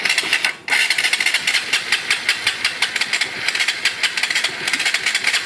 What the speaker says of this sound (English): Little Vespa scooter.